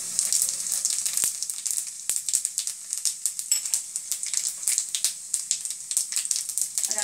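Red chili and cumin sizzling in hot oil for a dal fry tadka, a loud, close, continuous crackle with rapid popping bursts throughout.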